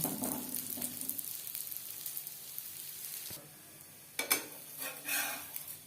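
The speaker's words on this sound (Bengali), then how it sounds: "পরোটা তৈরি করবার জন্য তাওয়ায় দিয়ে দিয়েছি রিফাইন্ড অয়েল। এবার দিয়ে দেব পরোটা।" A cauliflower-stuffed paratha fries in refined oil on a tawa with a soft, quiet sizzle. Light clinks of utensils and scraping come near the end.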